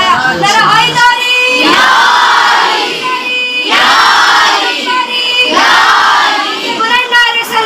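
A crowd at a majlis gathering shouts a Haidari slogan in loud unison bursts. Three or four swelling waves of many voices rise and fall close by.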